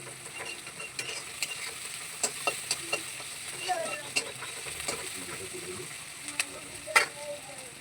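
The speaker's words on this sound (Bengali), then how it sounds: "পেঁয়াজটা একটু লাল লাল করে ভেজে নেবো" Onions frying and sizzling in a pan, with steady crackle and repeated stirring scrapes and taps close by, some faint background voice.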